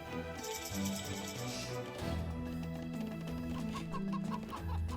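Chickens cluck repeatedly in an Age of Empires match, a steady run of short fowl calls set over looping game music.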